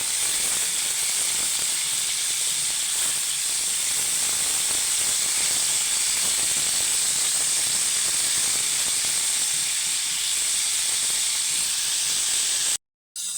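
Chicken seasoned with black pepper, paprika and salt hisses steadily as it fries in a pan, a loud continuous sizzle that holds evenly and cuts out just before the end.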